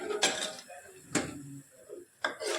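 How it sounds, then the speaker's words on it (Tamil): A spoon lightly mixing sambar in a metal pot just after coriander leaves go in. Three sharp metallic clinks about a second apart, with soft scraping between them, close by. "மல்லி இலையை போட்டாச்சு இப்போ அதை ஒரு லைட்டாக மிக்ஸ் பண்ணிவிட்டு"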